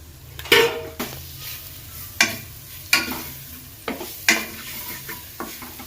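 Chopped pigeon peas (tuver) being cooked in a pan with asafoetida for kachori filling: a close sizzle broken by repeated sharp scrapes and knocks of a spoon against the pan.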